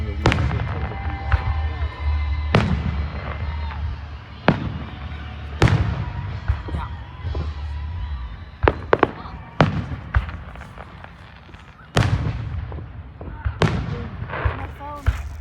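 Fireworks burst outdoors in Roosevelt, Utah, a run of sharp, loud bangs and crackles at uneven intervals, with people talking now and then between the blasts.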